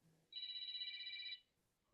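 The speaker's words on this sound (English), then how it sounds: "my phone is ringing for no reason" A telephone bell rings in one continuous, steady burst lasting about a second, clear and moderately loud in a radio studio, then cuts off into near quiet.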